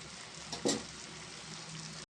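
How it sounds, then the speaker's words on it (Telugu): Chicken frying in a pan on a low flame, a soft steady sizzle with one brief stirring scrape near the start, quiet and close, cutting off abruptly at the end. "సిమ్లో పెట్టుకుని ఫ్రై చేస్తే చికెన్ బాగా ఫ్రై అవుతుందండి."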